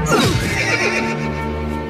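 Cartoon horse lets out a loud, close whinny that shakes and trails off into a lower, fading nicker over about two seconds.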